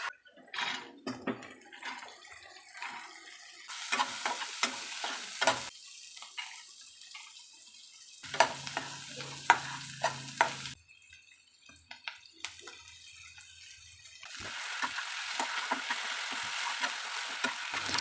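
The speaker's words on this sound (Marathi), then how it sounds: "तेलामध्ये कांदा टाकला। कांदा चांगला फ्राय झाला की त्यामध्ये आपण वाटण टाकलं" Onion, ground paste, turmeric, chana dal, peanut powder and ambadi greens fry in oil while a spoon stirs them, with a soft sizzle broken by intermittent scraping and clattering strokes, close up and without talking.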